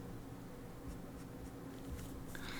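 A marker scratches across paper in quiet, steady strokes during a cat drawing, with a few faint squeaks as the tip drags and catches near the end.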